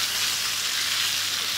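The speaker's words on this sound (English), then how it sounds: "These meatballs now have been in for about 2 minutes. You can hear them sizzling." Meatballs fry in a pan with a continuous, close, even sizzle and crackle throughout.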